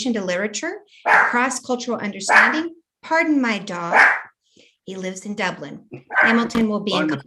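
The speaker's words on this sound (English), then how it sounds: "Apologies for the dog barking." A pet dog barks a few times indoors, short yelps breaking in beneath a man's steady speech during a live literary interview broadcast.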